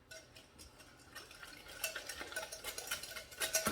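A spoon stirs packed brown sugar in a clear bowl while pecan pie filling is mixed, making soft scraping and clinking strokes that grow louder and quicker toward the end, close by with no talk.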